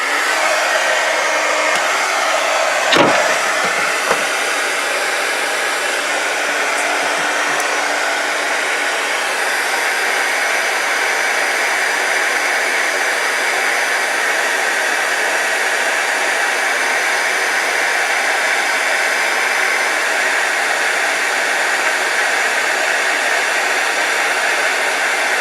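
A craft heat tool warms a Valentine's Day pocket letter with a loud, steady, close airy whir that holds unbroken for the whole stretch, with a brief click at its start.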